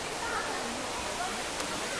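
Water streaming down a garden wall at Gardens by the Bay in Singapore, a steady, even wash of splashing flow heard close and continuous with no voices.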